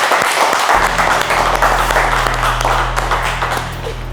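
Applause and clapping from people watching a boxing challenge, a dense burst that starts abruptly and holds loud and close for several seconds, with a steady low hum running beneath it.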